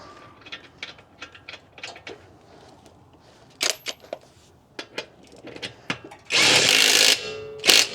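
Cordless impact wrench from a 71-piece air impact tool set tightening a bolt, heard as a string of short mechanical clicks and bursts that ends in a loud, sustained hammering rattle lasting about a second.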